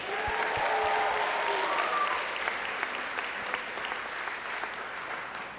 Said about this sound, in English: Let's give a round of applause for our amazing partners tonight.